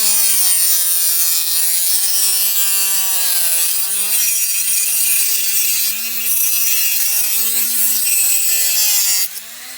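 A Dremel rotary tool grinds steadily through a turkey wing bone, giving a loud, continuous high whine with a slightly wavering pitch that cuts off abruptly at the end, with no one talking.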